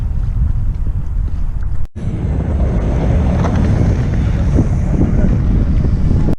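Ferry boat traffic at Tallinn harbor, heard as a loud, continuous rumble of engines and water, heavily buffeted by wind noise, with a brief dropout partway through.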